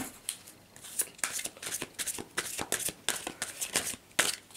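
Tarot cards shuffled and drawn by hand, a run of quick crisp riffling bursts and slaps in an irregular rhythm, close and clear, with no one speaking over them.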